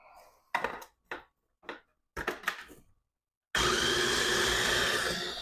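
A blender starts up on guacamole ingredients including peppers after a few short knocks and clatters of loading, then whirs in a loud, steady, continuous roar up close to the end.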